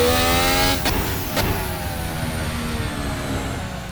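An F1 car in a sim racing mod screams past in a loud high engine whine, two sharp gearshift cuts breaking the pitch as it climbs again, then settles into a steady drone.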